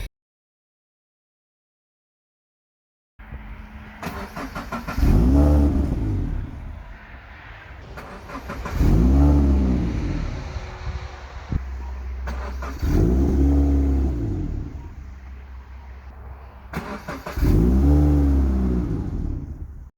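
A 2018 Subaru BRZ tS with a cold air intake accelerates hard in four repeated revving surges, each rising then easing off, heard loud and close with no talking.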